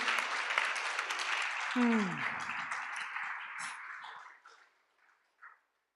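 Audience at a yoga festival panel in Parmarth Niketan applauding, a sustained wash of clapping that fades out over several seconds, with a brief vocal sound partway through and a faint tail near the end.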